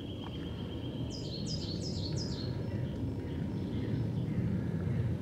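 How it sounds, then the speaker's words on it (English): A few short bird chirps ring out faintly over a steady low rumble of distant jet noise from Gatwick that fills the background throughout, on a countryside walk between Holmwood and Gomshall. "Plenty of natural bird song though to offset that."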